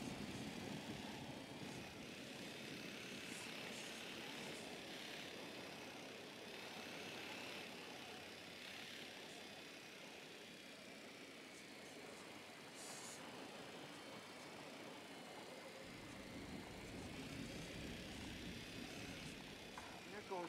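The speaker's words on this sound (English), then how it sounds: "The drone is up." Surveillance drone flying in the Ghost Recon Wildlands video game, a steady buzzing engine drone holding at an even level for about twenty seconds beneath broadband game ambience, with speech present.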